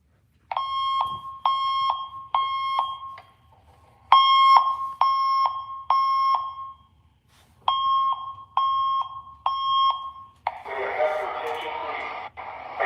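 Fire alarm tone from a speaker strobe: loud, repeated groups of three sharp beeps separated by brief pauses, followed by a burst of broadband sound at the end, with no talk over it.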